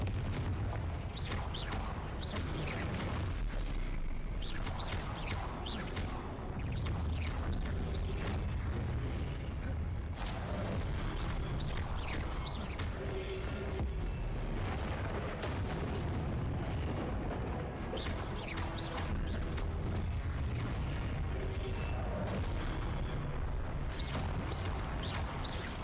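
Dense, continuous booming blasts from a Confringo explosion spell in Hogwarts Legacy on PS5, loud and layered with rumbling impacts throughout, no pauses.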